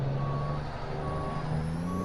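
Truck reversing alarm beeping steadily while backing up a trailer in Euro Truck Simulator 2, the repeated tones sitting over a constant low engine drone for a couple of seconds.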